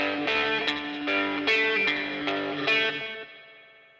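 Rock band recording with a Roland RE201 tape echo reverb blended in: repeated bright strummed chords ring out and trail off into a fading echo tail over four seconds, no voices.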